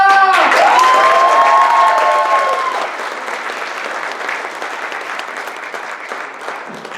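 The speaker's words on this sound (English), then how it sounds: "Big round of applause for Christophe!" Loud, enthusiastic audience applause with some cheering at a comedy class competition and showcase, greeting a comedian coming to the stage; a brief musical sting rings out at the start, then the clapping thins slightly but keeps going.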